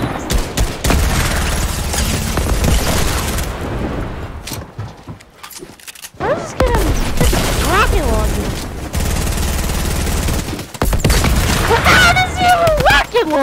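Dual pistols firing in Fortnite, rapid bursts of game gunshots with explosions and clattering mixed in, loud and dense, broken by short lulls while players talk excitedly over the action.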